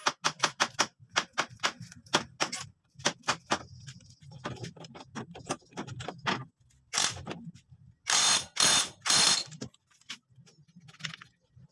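A ratchet tightening the castle nut on a motorcycle clutch: rapid bursts of sharp mechanical clicking in quick series, close and distinct, broken by short pauses and a few louder metallic rasps near the end.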